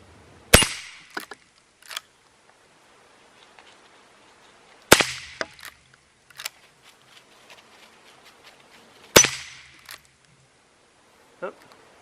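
A Marlin Model 39A rifle fires at a shooting range: three sharp, loud shots spaced about four seconds apart, each followed by fainter mechanical clicks of the action cycling, with quiet gaps between.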